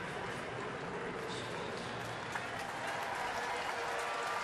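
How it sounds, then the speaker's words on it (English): A ballpark crowd in Houston gives a steady round of applause for pitcher Roy Oswalt at a Phillies–Astros baseball game, a dense, even wash of clapping that runs throughout. "Nice round of applause for Roy"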